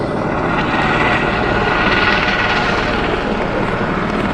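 A helicopter sits on a mountain helipad near Katra in Jammu with its engine running, giving off a loud, steady whine and rotor roar that stays constant and close.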